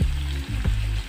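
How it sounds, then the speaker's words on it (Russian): Thin round slices of potato fry in a pan for a Spanish omelette, giving a close, steady sizzle with brief soft scraping and knocks as a wooden spatula turns them. No one speaks. "Жарю до готовности, периодически переворачивая деревянной лопаткой"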